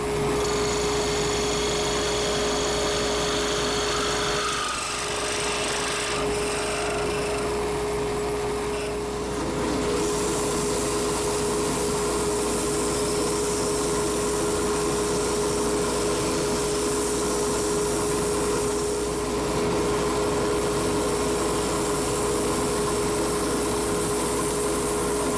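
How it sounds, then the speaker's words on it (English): A wooden stick pen is sanded with fine grit while spinning on a lathe, a steady whirring motor drone with a constant hum and faint scraping throughout, no talking. "I'm going to just take this down as small as I can, and then sand it with fine grain"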